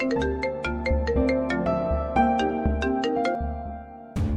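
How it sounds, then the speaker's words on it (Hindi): A bright, repeating electronic ringtone melody plays loudly and steadily, its notes pulsing in a regular rhythm throughout. "अरे नाइल भाई की कॉल है, पिक तो करो।"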